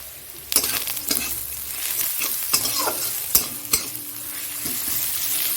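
Onions fry and sizzle steadily in a pan, with occasional sharp clinks and scrapes of a utensil stirring against the metal, close and continuous.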